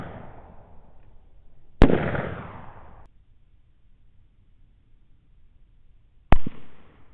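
Two loud, sharp gunshots ring out during a guided thermal hog hunt at night, spaced several seconds apart. Each is a sudden crack that trails off in a brief rumble, with quiet background between them.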